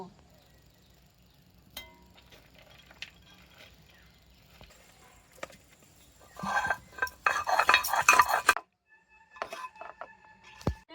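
Shrimp ground together with peanuts, green chili, ginger and onion. Quiet clinks and kitchen handling come first, then a loud, harsh grinding burst of about two seconds, then brief clattering afterward.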